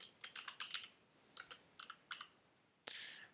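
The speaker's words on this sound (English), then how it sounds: "just type in the name of your class" A computer keyboard clicks as a class name is typed, with short irregular bursts of crisp key taps and a few pauses in a quiet room, faint and close.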